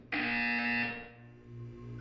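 A loud, harsh electronic buzzer from the video game Portal 2 blares abruptly for about a second, then gives way to a lower fading hum.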